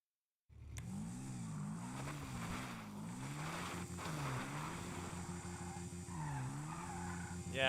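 A four-wheeler in a PS5 car game drives with its engine rising and falling in pitch, accompanied by skidding and scraping noise, steady and fairly close from start to finish.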